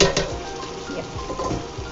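Vegetables coated with turmeric and chili powder stirred in a pot at close range, with steady scraping and clinking of a spoon against the metal and a faint sizzle underneath.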